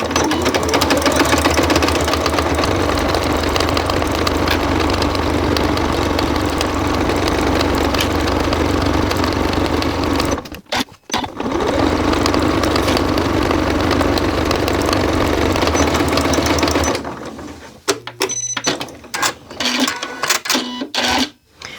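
Sewing machine stitching the seam of a child's Christmas boot, a steady loud mechanical whir running continuously, pausing briefly midway, then resuming before ending in short stop-start bursts.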